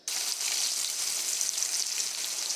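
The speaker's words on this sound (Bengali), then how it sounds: "সুন্দর সুন্দর করে পেঁয়াজটাকে ভেজে নেবো।" Onions fry in hot oil in a village kitchen pan after fish has been fried, giving a loud, steady hiss and sizzle that starts suddenly and holds evenly with no voices.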